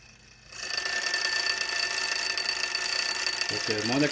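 A bell alarm clock rings inside a vacuum jar as the air is pumped out, a steady metallic ringing that starts abruptly after a quiet moment and is heard faintly throughout, with a voice speaking briefly near the end.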